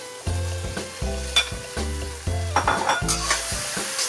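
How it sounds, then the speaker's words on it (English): Pork stir-fried with chili bean paste and aromatics in red oil crackles loudly, with repeated scraping tosses of the spatula coming in rhythmic bursts about once a second; no one speaks. "Tossed it in the aromatics and the sauce so that everything was evenly coated."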